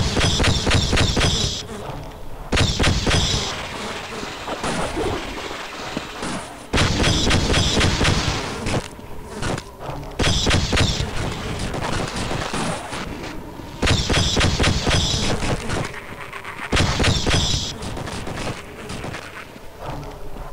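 Repeated bursts of heavy gunfire in the video game Half-Life, several loud, booming volleys a couple of seconds long, separated by brief quieter gaps and echoing reverberation.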